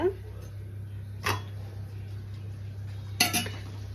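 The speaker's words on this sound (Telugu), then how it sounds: "ఇక్కడ మా అబ్బాయి కోసం నేను ఎగ్ దోశ చేస్తున్నాను." Egg dosa cooking on a pan, with a few sharp utensil clinks and scrapes against the metal pan over a steady low background hum, spaced apart with quiet gaps.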